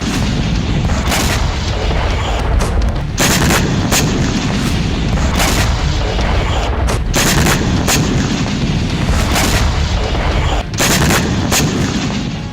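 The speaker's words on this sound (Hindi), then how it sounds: "ये हाइफा की तस्वीरें हैं, जहां हिजबुल्लाह ने बड़ा रॉकेट हमला किया" Rocket attack explosions in Haifa produce a loud, continuous roar of booms and sharp blasts, with repeated cracking bursts over a dense rumbling background.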